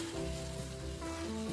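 Pork frying on a high flame, a brief continuous sizzling hiss close to the pan, with a faint steady hum underneath.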